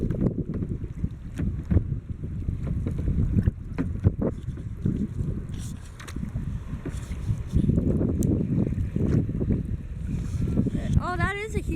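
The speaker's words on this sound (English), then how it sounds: "Oh, that is a huge boat there." A huge boat passes on River Canard, heard from a kayak as a continuous low rumble mixed with heavy wind buffeting and water noise throughout.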